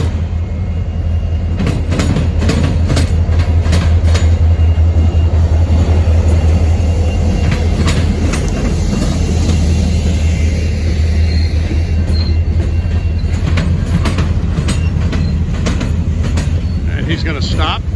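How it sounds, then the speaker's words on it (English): Norfolk Southern freight trains pass one another on adjacent tracks, a loud, steady rumble of rolling railcars with intermittent wheel clatter and squeal throughout, close by. "Kind of cool to see one train passing the other."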